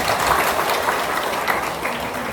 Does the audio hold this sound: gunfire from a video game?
no